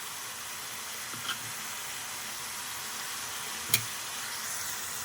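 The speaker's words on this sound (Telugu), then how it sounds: "ఉల్లి కారం వేసుకొని మొత్తం కలుపుకుందాము" Spinach fries in a pan with ground onion-chili paste, giving a steady moderate sizzle and hiss, with a couple of brief clinks and scrapes from stirring.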